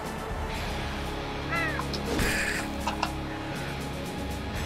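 In the video game Slain, a bird caws a few times over a loud, continuous game soundtrack, with brief sharp effects in between.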